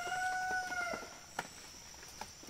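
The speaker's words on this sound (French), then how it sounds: "Et le coq est d'accord." A rooster crows once nearby, a long drawn-out call that fades out, followed by faint clucking and rustle in a quiet outdoor setting.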